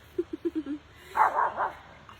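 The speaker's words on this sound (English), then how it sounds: "you can hear Chance barking at the neighbor's dog" A dog barks at a neighbouring dog: five quick, moderately loud barks in a row, then three louder, longer yelping barks, heard indoors with no talking.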